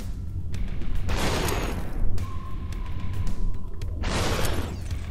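Gunshots in the VR shooting game Superhot, two or three loud booming blasts spaced over a few seconds with a faint tone between them.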